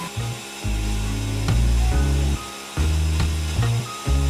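A power tool cuts through a kitchen worktop to make the sink opening, loud and close, with a grinding drone that dips and surges in several bursts as the cut proceeds, no talking.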